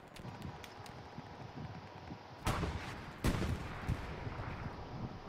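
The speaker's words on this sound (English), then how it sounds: "Oh, I'm getting shot from the left." Gunfire in the Hell Let Loose war game, with a muffled background patter of distant shots broken by two sharp, louder reports close by.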